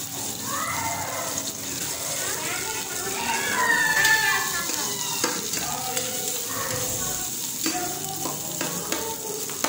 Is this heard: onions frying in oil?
yes